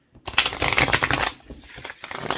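A deck of cards is shuffled hard and close up, giving a dense, crackling riffle that swells quickly, eases, then rises again, with no talk.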